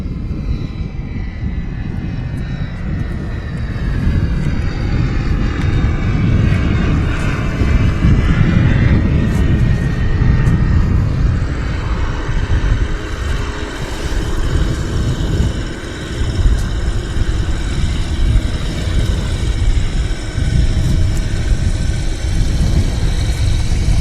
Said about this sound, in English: Icarus C42 on the taxi out.